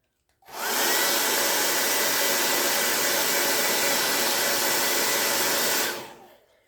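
A hair dryer blasts air onto a freshly painted craft letter in a St. Patrick's Day project, one steady, loud whooshing roar that starts abruptly, holds unbroken for about five seconds, then cuts off.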